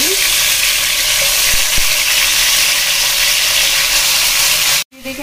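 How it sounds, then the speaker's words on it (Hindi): Chicken frying in a kadhai for a homestyle dahi chicken, a loud steady sizzle that holds throughout before cutting off abruptly near the end. "देखें, चिकन डाल देंगे हम कढ़ाई में।"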